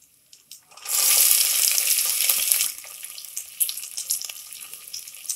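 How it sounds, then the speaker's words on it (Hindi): Finely chopped onion for veg tahari hits hot oil already holding cinnamon and erupts in a loud hiss that lasts a couple of seconds. It then settles into a lighter, crackling fry close by. "प्याज को हम कुछ मिनट के लिए भूनेंगे"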